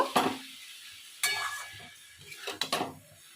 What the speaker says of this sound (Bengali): সেই এঁচোড়টা আমি এবারে মশলার সঙ্গে দিয়ে দিলাম তে ভালো করে মশলার সঙ্গে মিশ করে নেব